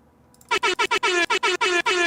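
An air horn sound effect blares in a rapid series of loud, close bursts. A brief hiss comes first, then the honks repeat with short gaps between them.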